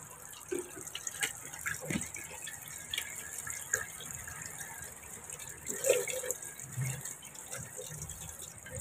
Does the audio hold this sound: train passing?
no